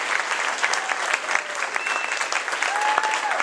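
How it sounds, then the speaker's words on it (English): A studio audience at a televised singing competition applauds the three contestants, with loud, steady clapping and crowd noise running throughout. "give a round of applause to all three of these contestants right now"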